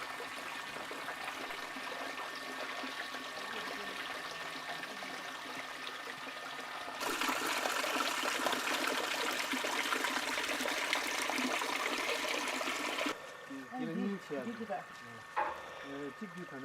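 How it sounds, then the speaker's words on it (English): Water flowing out steadily at a Tibetan settlement, a continuous rushing stream that swells louder midway, then gives way to people talking nearby. "You know, all the water that is flowing out."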